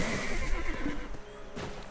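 Horse in the Black Desert Online video game giving a loud, close whinny with hoof clip-clops beneath, over continuous game ambience.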